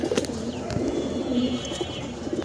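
Pigeons in a loft during the moulting season coo softly and steadily, a low murmuring bed of calls with faint wing flutters, close and continuous.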